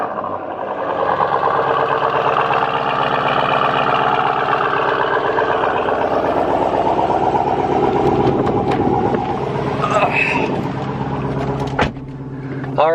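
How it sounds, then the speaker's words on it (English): A Jeep Grand Cherokee Trackhawk starts cold and settles into a steady, loud, close idle with a deep, even rumble that continues throughout, with no voices. "About to take the Trackhawk for a little spin for this video. It'll grow warmed up. Get a cold start."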